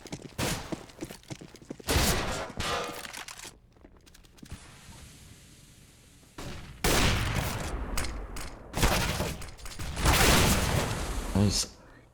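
AK rifle gunfire rattles out in a Counter-Strike match on Mirage, with loud bursts of shots in several clusters separated by quieter stretches.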